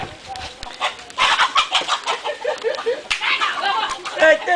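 Rooster clucking and squawking in bursts, close and lively, mixed with people shouting and talking while it is chased out of a house during a street carnival-style gathering.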